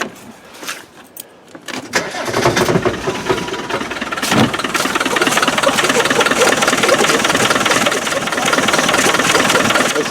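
A Land Rover 300Tdi diesel engine running badly with a suspected head gasket fault: a few clicks and a crank, then it catches and settles into a loud, rough, knocking run close by.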